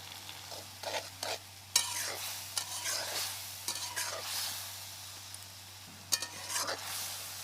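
A carrot and spice mixture for a Chinese-style carrot dish is stirred in a pan, with irregular scraping strokes over a soft sizzle, close and without voices.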